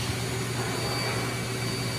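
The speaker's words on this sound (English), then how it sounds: "The vacuum she wants. She wants the vacuum." Household vacuum cleaner running with its hose, a loud steady whirring roar close by that stays constant throughout, with no talking.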